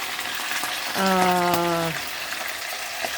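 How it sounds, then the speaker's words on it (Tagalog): Steady crackling sizzle of chicken frying in hot oil, close up, with a brief harmonic tone in the middle. "piniprito ko na muna po yung manok"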